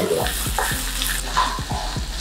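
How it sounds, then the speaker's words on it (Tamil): Diced potatoes sautéed and stirred in a pan over a low flame, with a steady soft sizzle and repeated scraping, clacking strokes of a spoon across the pan's surface throughout. "நல்லா வதக்கிக்கலாம்."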